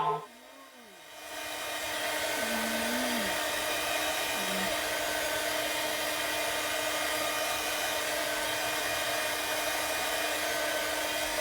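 A handheld hair dryer blows on a craft transfer for a Christmas Noel sign, starting after a brief thump and then holding a loud, steady whooshing roar nearby.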